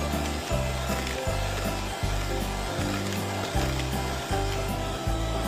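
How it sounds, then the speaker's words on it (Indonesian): An electric mixer runs at high speed, whipping batter for a baked cheese sponge cake until it turns white and thick. It gives a loud, steady whir with regular pulsing strokes as the beaters sweep the bowl. "Ini kita mixer dengan kecepatan tinggi ya teman-teman, hingga mengembang putih dan berjejak."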